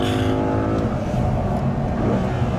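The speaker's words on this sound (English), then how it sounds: "Down to second, let the car run in." An Audi R8 accelerates hard on the track at Fuji Speedway. The engine roars loudly from close by, and its pitch climbs and shifts as the car pulls through the gears, with no talking over it.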